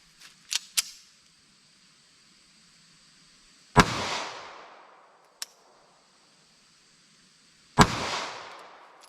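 A short-barrel .380 pistol fires two loud, sharp shots several seconds apart, each followed by a decaying echo, with smaller clicks and pops in between.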